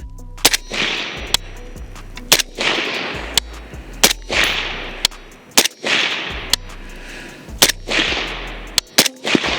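A rifle fitted with a 3-position forced-reset trigger fires in normal mode, sharp loud single shots spaced irregularly about a second apart, each followed by a short outdoor echo.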